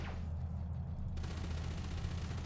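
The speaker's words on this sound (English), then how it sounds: "So that's the large weapons firing there." Large ship weapons fire in Elite: Dangerous, a steady, dense low rumble of sustained gunfire that holds throughout, with a broad noisy layer joining partway through.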